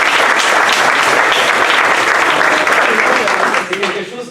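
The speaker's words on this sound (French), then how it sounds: "j'aimerais bien qu'on applaudisse et qu'on remercie David et tout le monde du staff pour l'aide" Audience applause thanking the event staff at an annual training course: loud, full clapping from a crowd that holds steady and then begins to thin out toward the end.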